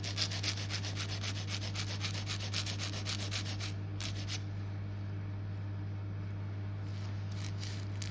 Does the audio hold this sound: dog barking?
no